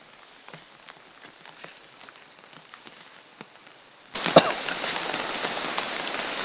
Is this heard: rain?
yes